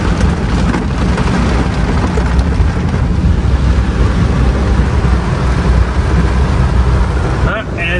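Heavy monsoon downpour with low rumbling thunder over waterlogged streets near a mall in flooded Delhi, a dense continuous roar filling the whole span, loud and close, with faint voices beneath.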